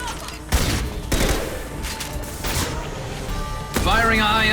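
Gunfire in the video game Mass Effect 2, several heavy bursts of shots amid combat noise, with voices talking throughout.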